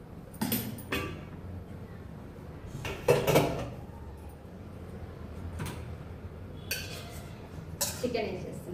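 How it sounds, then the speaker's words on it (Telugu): Chicken goes into a cooking pot for biryani, heard as scattered clanks and clatters of cookware and utensils with a muffled dropping thump midway, while a person talks. "చికెన్ వేసేస్తున్నాం దీంట్లో"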